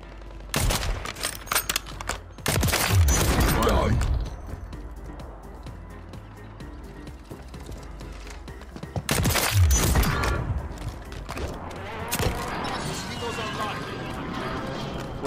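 A sniper rifle and other guns in the video game Warzone 3 crack in sharp, loud bursts near the start and again midway, with quieter game noise and scattered shots between them.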